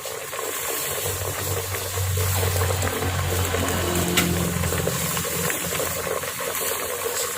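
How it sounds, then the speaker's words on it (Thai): Thai tom saep beef soup with tender braised beef simmers in a pot, giving a steady close bubbling and watery churn that continues throughout with no talking. "มันเดือดอยู่นะครับ มันเดือดอยู่นะครับอ่า เมนูนี้เดือดอยู่"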